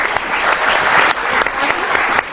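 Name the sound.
applause for a girl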